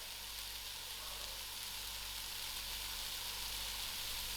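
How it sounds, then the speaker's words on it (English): A sweet potato frying in a salted pan gives a steady, broad sizzle of hissing and crackling throughout, quiet and even with no voices over it. "allow this sweet potato to fry a little"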